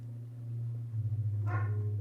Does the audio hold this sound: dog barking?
yes